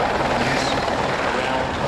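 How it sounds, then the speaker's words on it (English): Military helicopters, two-crew versions of the Squirrel, flying at the Australian International Air Show 2009: a loud, continuous rotor and engine roar close by. "Helicopters are the military version of the Spartan Squirrels"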